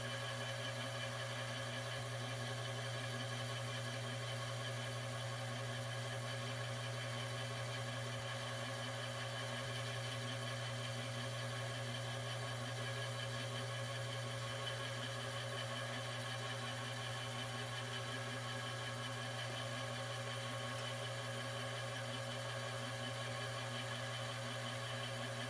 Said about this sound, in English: I am turning a long rod between centers using